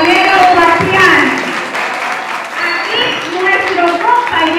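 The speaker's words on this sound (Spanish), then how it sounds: "Un aplauso muy fuerte para nuestro compañero Bastián" An audience at a conference applauds loudly, with steady clapping running throughout and a voice or cheers mixing in over the sound.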